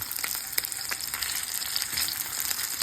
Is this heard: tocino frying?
yes